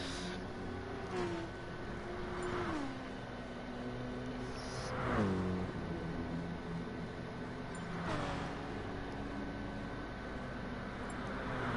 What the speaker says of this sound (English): As Jeremy is about to start his lap now, coming up to the final corner in the BMW M6.